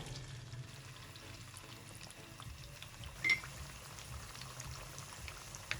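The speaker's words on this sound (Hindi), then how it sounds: "तेल ज़्यादा सही गर्म हो, उसमें से धुएं निकलने लगे तो जब आपने मछली फ्राई के लिए डालनी है" Fish frying in very hot, smoking oil, giving a faint, steady low sizzle and hiss throughout with one brief sharp tick midway.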